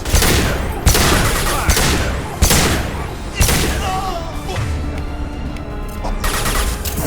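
Gunfire in the Mass Effect 2 video game aboard the Collector ship, with loud, heavy shots and bursts landing at roughly one-second intervals over a continuous din of combat noise.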